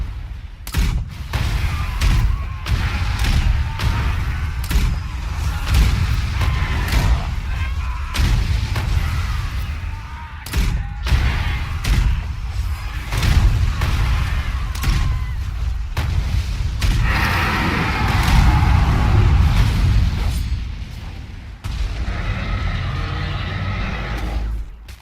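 Heavy turret blasts boom repeatedly in a dense, loud barrage with rumbling explosions and a horse-like whinny, layered over chaotic battle noise in the MMORPG Elyon.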